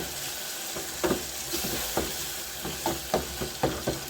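Tomatoes fry in a pan for a home-cooked supper with a constant sizzle, and a spoon stirring or scraping through them gives repeated soft clacks and scrapes.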